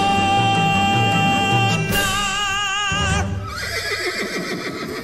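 A horse whinny for a stage prop horse in a Seattle theatrical production of Shrek The Musical rings out loud and close, a long quavering neigh that sweeps up and then trails off over the room.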